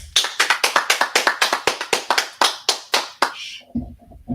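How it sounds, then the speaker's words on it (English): Rhythmic group clapping at a Bible-law class in San Antonio, in a steady, fast beat, about a dozen sharp claps, then stopping as a low murmur begins. "Clap it up, clap it up, clap it up."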